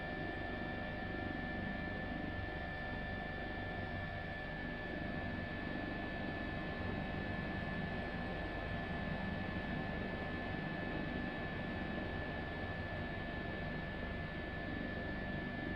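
A constant mechanical drone with a high whine of an HPG-135 helicopter's engine and rotors in Microsoft Flight Simulator, heard steadily from the cockpit, unchanging throughout.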